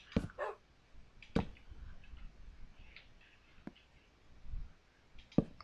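A dog in Minecraft gives a few short, sharp barks and yips spread over several seconds, each brief and fairly close, with quiet pauses between them.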